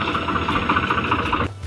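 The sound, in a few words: tractor engine running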